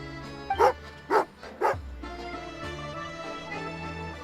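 Tugarin, a dog in the video game Genshin Impact, gives three evenly spaced barks, loud and close, followed by a low whimpering tail and soft game background music.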